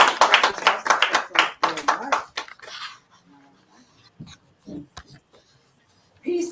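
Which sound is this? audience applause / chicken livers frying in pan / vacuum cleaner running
audience applause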